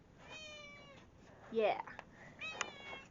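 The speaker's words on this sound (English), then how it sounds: "This is my geriatric cat" An elderly house cat gives two drawn-out meows, close and clear, with a short spoken word and some rustling between them.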